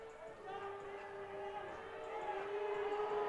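A home crowd at a New Mexico State men's college basketball game against Seattle boos the officials after a technical call, a steady sustained roar of disapproval filling the arena and swelling slightly toward the end.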